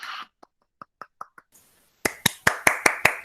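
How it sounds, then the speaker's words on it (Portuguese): Hand claps for a teacher, Marina: a few faint, scattered taps at first, then a run of loud, evenly spaced claps from close by, about one every fifth of a second. "Cadê os aplausos para a tia Marina?"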